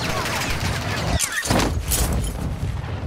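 Gunfire and heavy impacts in a video game ring out loud and dense throughout, with a booming crash in the middle amid continuous game noise.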